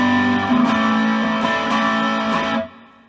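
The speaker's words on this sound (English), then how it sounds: "it's kind of a low gain, kind of open distortion" An electric guitar through a low-gain Dumble-style overdrive pedal plays a few strummed chords with mild, open overdrive, ringing for a couple of seconds before cutting off abruptly.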